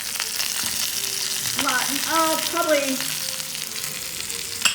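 Steaks searing in a pan on a stovetop give a steady sizzle throughout, while a person speaks briefly over it in the middle.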